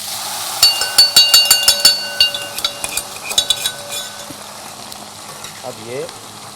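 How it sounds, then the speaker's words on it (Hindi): Edible gum (gond) roasts in a pan while a spoon clatters and clinks sharply against the metal in a quick series, fading to softer stirring, with a brief voice near the end. "ये गोंद इसको ज़्यादा भी ना भून, फिर कड़वा हो जाता है।"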